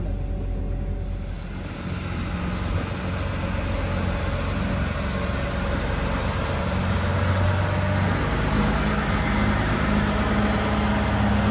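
A tractor pulls a Lemken Equalizer 16-row seed drill toward a garage, its engine a constant loud, low drone with a steady hum throughout, close by and with no talking.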